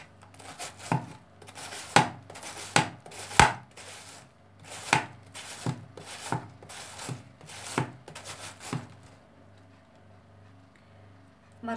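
A knife chops through cabbage in quick strokes on a board, shredding it thinly for sauerkraut, with about a dozen sharp, close cuts in an uneven rhythm and no talking.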